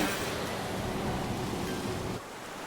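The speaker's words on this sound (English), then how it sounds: "Why are the waves coming in one after another?" Video game ocean surf from Love and Deepspace, a steady broadband wash of waves rolling in for about two seconds, then dropping abruptly to a quieter hiss.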